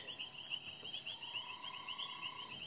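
Running frog, also called rubber frog, giving a high-pitched purring trill, repeated rapid pulses close by, with a quieter steady insect-like tone and faint night ambience behind.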